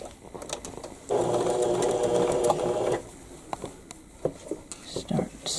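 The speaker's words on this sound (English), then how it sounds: "Start sewing" A sewing machine stitches a Cathedral Window quilt block in a steady two-second run of close mechanical whirring, followed by quiet fabric handling and soft taps, with faint whispery talk around it.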